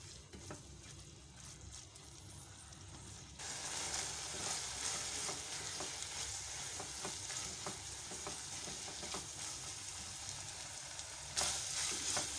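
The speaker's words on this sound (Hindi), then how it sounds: "हमें इसको इतनी देर फ्राई करना है कि गोश्त का पानी जो है वो हमारा खुश्क हो जाए।" Machine-minced beef fries in a pan with a steady close sizzle while a utensil stirs it with soft scrapes. The frying grows louder after a few seconds, and no one speaks.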